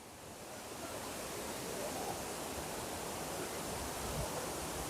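Rushing river water at El Salto, a swimming spot with a rope swing just outside La Fortuna, Costa Rica, flowing with strong push, a steady broadband roar that fills the scene without a break.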